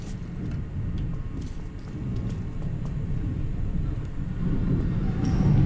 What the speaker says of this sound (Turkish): Makinesiz tren geldi.